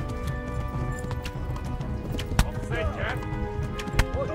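Horse galloping in the video game Kingdom Come: Deliverance, steady hoofbeats drumming under game sounds, with a couple of sharp knocks and a faint whinny.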